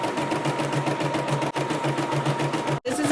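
A Caydo CE01 embroidery machine stitches in a fast, even mechanical rhythm, close and steady with a brief dropout near the end, no talking.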